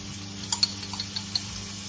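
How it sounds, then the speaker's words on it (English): Butter and onions going into a heated pot, a low steady sizzle with a few light clinks and stirring taps close by. "So I've heated up the pot and I'm putting in this butter and the onions."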